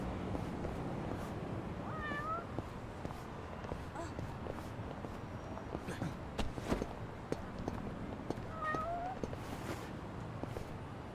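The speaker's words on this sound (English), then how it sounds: "Get out of here, cat." Cat meowing in the video game Yakuza: Like a Dragon, two short rising meows a few seconds apart, moderately near, over steady street ambience with footsteps and clatter.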